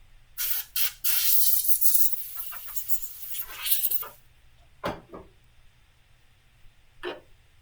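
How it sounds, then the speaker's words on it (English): Water sprays in a rinse, with a few short bursts leading into a longer hissing stream that stops abruptly. After it come quiet gaps and a couple of faint knocks. "Let me rinse this here so you can see better."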